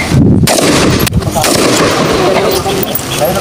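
Sharp, loud rifle shots crack in quick succession outdoors at a firing range during army reservist marksmanship training, with voices talking in the background.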